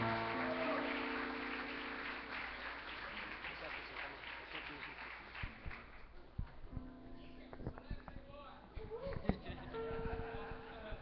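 Church congregation applauding at a worship service, a dense wash of clapping that starts full and gradually thins into scattered claps, with voices and some sustained tones mixed in.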